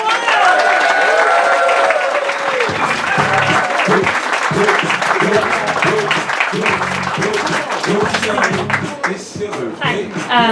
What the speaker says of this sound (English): Please go wild, start applauding, start cheering for the love of Dr. Mhairi Aitken.